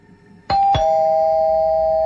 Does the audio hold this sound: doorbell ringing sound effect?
yes